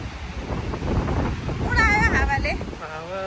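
Wind blowing at the seaside in Wollongong, a gusty rumbling buffet across the microphone that swells and fades, with people talking over it.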